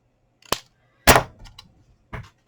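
A folded card is cut off with a paper trimmer, producing a few sharp, close snapping clicks in quick succession with short pauses between them.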